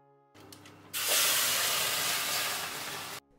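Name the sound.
steam hissing from water added to hot bread oven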